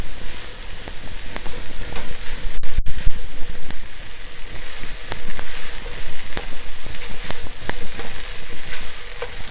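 Leeks and pre-cooked meat frying in a pan over medium heat give a steady, close sizzle, with scattered crackles and pops and the scrape of stirring running through the whole stretch.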